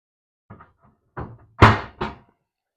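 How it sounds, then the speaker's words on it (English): Metal drawers on a Harbor Freight welding cart slide shut in a workshop, giving a few quick sliding rattles followed by two sharp closing thuds close by. "Let me shut these drawers up here."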